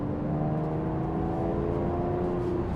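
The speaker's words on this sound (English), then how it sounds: "I will switch on the sports exhaust." A Porsche 911 997.1 Carrera S with the sports exhaust switched on gives a loud, steady, deep engine drone with a strong harmonic hum and rumble, held evenly throughout without talk.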